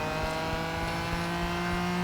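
Ford GT Le Mans race car in a racing video game holds a loud, steady high-revving engine drone with faint rhythmic pulses underneath, no talk.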